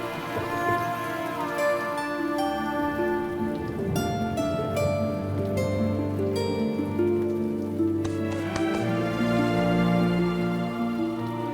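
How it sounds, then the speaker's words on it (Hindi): Steady unseasonal rain pours continuously outside a rest house at night, a dense even patter beneath soft musical tones, with no voices over it. "बेमौसम की बारिश को भी आज ही होना था"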